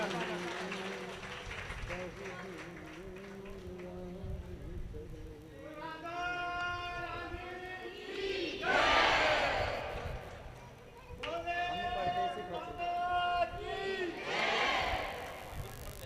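A crowd at a Radha Krishna temple gathering bursts into applause and cheering, swelling in loud waves with rhythmic shouts over the clapping, close and dense, while a voice speaks over the start.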